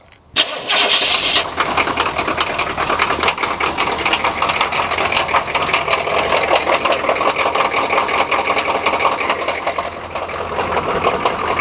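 A car engine cranks briefly and catches, then settles into a steady loud idle outdoors in minus 5 Celsius winter cold in Minnesota, with no talking.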